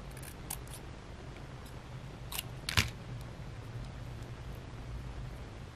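Scissors snip through paper for a tiny handmade Halloween miniature book, a few quiet close cuts with one sharper snip near the middle over a low hum.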